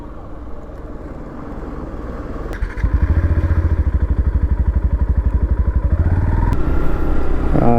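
A motorcycle ridden on a road trip toward the Diamond Harbour ferry ghat; the engine fires up partway through into a loud, close, rapidly pulsing throb that holds steady to the end.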